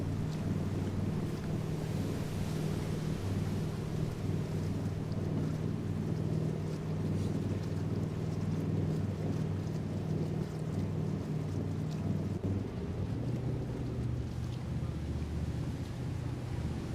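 Steady low hum of a boat engine over continuous rushing water in Fallout 4, a constant close drone with a slight shift in pitch near the end and no voices.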